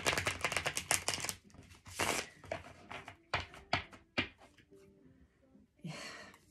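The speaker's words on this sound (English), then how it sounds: "let me just shuffle these real quick" Tarot cards are shuffled in rapid bursts of crisp riffling and tapping, close and fairly quiet, with pauses between runs and brief soft voice sounds.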